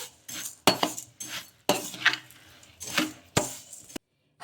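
Vermicelli and semolina roast dry in a pan while a metal spoon stirs them, scraping and clinking in irregular bursts before a brief pause.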